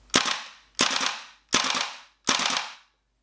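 A WE Apache MP5A2 gas blowback airsoft rifle fires four sharp 3-round bursts, each a loud close snapping crack with a quick decaying rattle, evenly spaced and clear with no talk.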